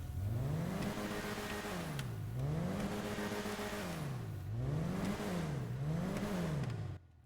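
An Ubermacht Oracle car engine in GTA Online revs up and down repeatedly in smooth rising and falling sweeps, loud and close, then cuts off abruptly at the end.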